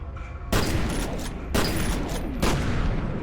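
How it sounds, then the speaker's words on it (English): Particle cannon fire in the shooter game F.E.A.R.: three loud, broadband blasts roughly a second apart, each with a sustained crackling tail over a low rumbling bed. "So we can get a couple more of these with the particle cannon first."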